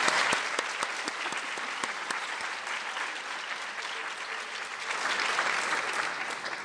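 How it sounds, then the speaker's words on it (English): An audience at a Stanford lecture applauds for Dana, a dense wash of clapping from a large hall that carries steadily throughout, easing slightly mid-way then swelling again near the end. "let's hear some applause for Dana"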